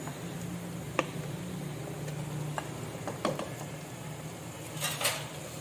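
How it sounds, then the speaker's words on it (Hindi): Minced meat goes into a pan of lightly golden fried onions for a keema dish, with a low steady hum and a few sparse clinks and taps of a utensil against the pan, and no talk. "अब मैं इसमें ये कीमा डाल रही हूँ।"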